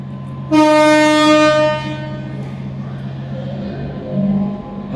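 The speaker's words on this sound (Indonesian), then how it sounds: "transit 9 sudah masuk jalur 2 arah Halim G1236" Train G1236 pulling into platform track 2 bound for Halim, at a station on the Depok–Bandung rail journey: a loud, bright horn blast lasting about a second, then a steady low rumble of the rolling train, with no talking.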